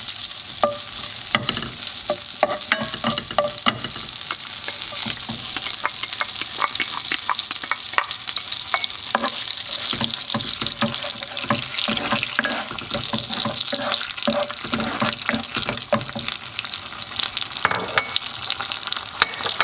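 Orange chicken with butter and chili sauce sizzles and crackles steadily in a hot pan, a continuous frying hiss broken by frequent sharp pops and scraping stirs, with no talking.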